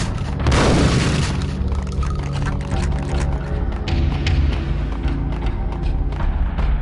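In Max Payne on PS5, a single loud booming gunshot hits a box and smashes it, followed by a dense, steady game soundscape.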